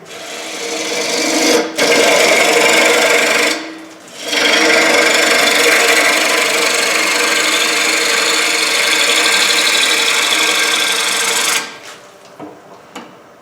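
Wood lathe turning a rough bowl form from fresh wood, a loud continuous cutting hiss and scrape with brief breaks as the tool lifts off, then trailing off at the end.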